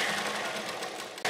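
A sewing machine runs a simple straight seam on a lehenga choli, a continuous close whirring stitch that cuts off sharply near the end.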